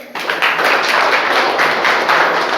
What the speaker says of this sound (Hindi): तो इसी तरह से एक बार और ताली बजाइए।